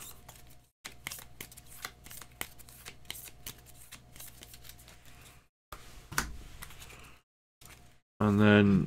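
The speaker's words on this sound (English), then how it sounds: "I'll shuffle the C cards." Maracaibo board game cards riffle and snap in several crisp bursts separated by short pauses, close and fairly quiet, ending with a louder clatter.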